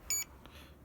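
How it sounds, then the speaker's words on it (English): An RC remote receiver controlling a linear actuator gives a short, bright electronic beep once, loud and close, then fades into quiet room noise. "So as I left the button, it's also beeping"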